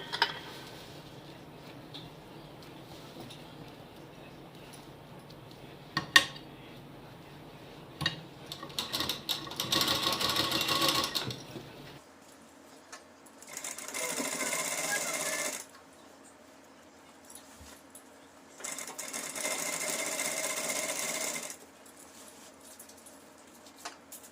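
A sewing machine stitches the lining of a suit in short bursts of rapid whirring, separated by quieter pauses with faint handling noise, heard close up.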